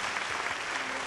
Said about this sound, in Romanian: Haideți să-i aplaudăm pe jurnaliști.